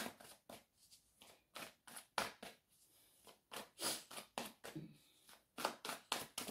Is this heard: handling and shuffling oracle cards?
yes